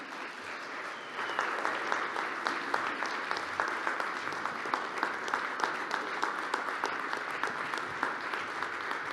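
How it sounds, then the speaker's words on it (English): Applause from an audience at an oil and gas association annual meeting after a speech, a sustained round of steady clapping at moderate distance with no talk over it. "how about another round of applause for the Attorney General?"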